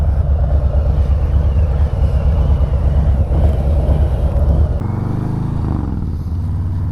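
Harley-Davidson 2021 Street Bob 114 with Vance & Hines slip-on mufflers, a loud close rumbling engine drone that holds steady and then drops to a lower idle-like tone near the end, with no talk.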